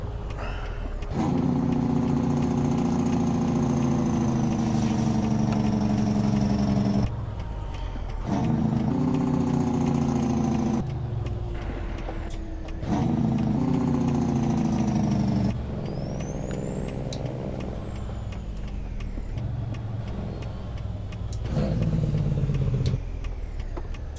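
A Kenworth W900 long-sleeper truck engine drones steadily in American Truck Simulator, with repeated breaks and changes in pitch as the gears shift, close and continuous with no talking.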